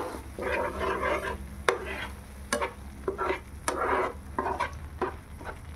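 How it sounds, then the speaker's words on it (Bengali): Dal makhani spice mixture frying in oil, bursts of sizzling and crackle broken by sharp clinks and scrapes of a spoon stirring the pan, close up with no talking. "এবার এটা আমরা খুব ভালো করে ভেজে নেব যতক্ষণ না এটা মশলাটা তেল ছাড়ে।"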